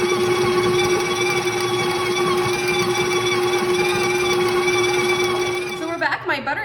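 A stand mixer beats butter and sugar for cake batter, a loud, steady motor whine with a strong constant hum that runs unbroken, then cuts off near the end as the beaters slow and stop.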